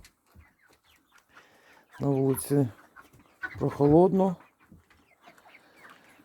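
A few chicken clucks and squawks near the microphone, heard alongside a person talking.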